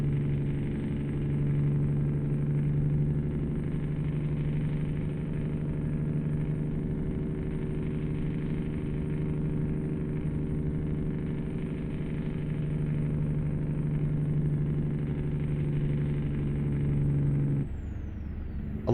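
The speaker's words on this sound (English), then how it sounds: "I love that J brake sound." A truck's Jake brake in American Truck Simulator rumbles with a steady, loud low growl for most of the stretch, then drops off abruptly near the end, with no voices over it.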